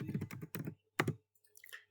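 Keys click on a computer keyboard in short, quick bursts of typing with brief pauses between, close and fairly quiet.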